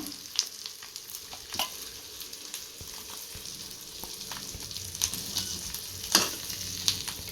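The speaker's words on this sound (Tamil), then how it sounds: "பின் சைடும் அதே மாதிரி லோ ஃப்ளேமில் வச்சு நல்லா பொறிச்சு எடுத்துக்கலாம்" Dried fish sizzles softly in oil over a low flame, a steady quiet crackle with scattered pops and light stirring clicks, no voices.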